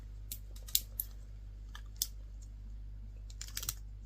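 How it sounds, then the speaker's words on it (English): Side cutters snip and peel back the aluminium casing of a Samsung laptop, giving a few sparse, sharp metallic clicks and crunches over a low steady hum, close and quiet. "you can just really get your side cutters into that slot and peel it back"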